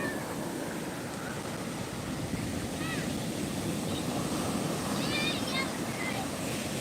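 Steady roar of stormy sea waves and wind at Odesa, constant and fairly loud, with faint cries of gulls or birds now and then.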